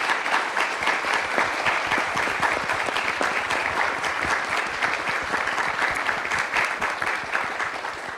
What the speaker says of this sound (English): Let's give these folks another round of applause.